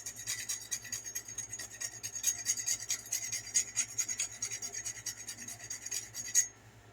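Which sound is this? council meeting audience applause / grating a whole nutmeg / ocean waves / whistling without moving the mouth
grating a whole nutmeg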